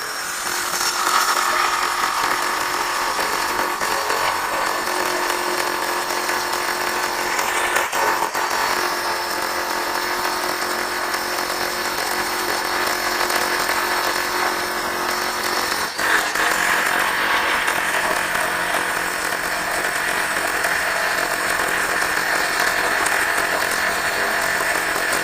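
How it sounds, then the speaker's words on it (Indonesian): An impact drill fitted with an SDS Plus hole saw runs continuously at close range, a loud, steady grinding whine with brief dips and catches as it bites into the material. "Masih menggunakan impact drill."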